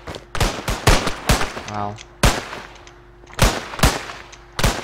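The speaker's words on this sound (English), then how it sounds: "Dude just shot me instantly." Rapid bursts of gunfire in Minecraft ring out as sharp, loud cracks in irregular clusters across the clip, with a brief exclamation in between.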